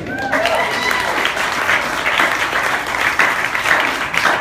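A crowd at a live show in a coffee shop claps loudly and continuously for a comedic performer, dense applause filling the whole stretch with some voices mixed in.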